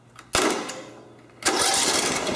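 Engine turned over by its starter motor during electrical troubleshooting: two loud bursts of cranking, a short one and then a longer sustained one.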